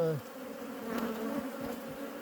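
Honeybee colony in an opened hive during a swarm-prevention split, giving a steady, fairly faint buzzing drone with occasional nearer flybys passing close.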